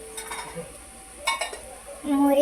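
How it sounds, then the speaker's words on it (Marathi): Onion, mustard seeds and cumin sizzle in a pan while a utensil stirs and clinks against the metal, with soft scraping bursts and a louder clatter at the end. "जिरे, मोहरी आणि जिरे मस्त परतवून घ्यायचे."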